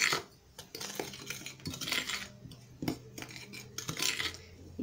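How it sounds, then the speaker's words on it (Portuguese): A spoon gently stirs ground cinnamon into a sweet-bread mixture in a bowl, giving soft irregular clinks and scrapes of metal against the dish, close and quiet, with no talking. "vou dar uma misturadinha de leve"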